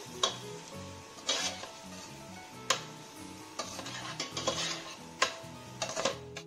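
Chicken stir-frying in a pan for sweet and sour noodles, a soft sizzle punctuated by sharp, repeated spatula knocks and scrapes at irregular intervals, close and without talk.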